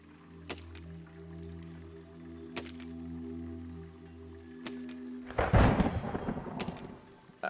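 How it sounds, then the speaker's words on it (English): Rain and thunder in the video game Besiege: a soft hum with faint ticking drops, then a loud, close thunder crash rolls and rumbles for about two seconds. "That rain is pretty cool."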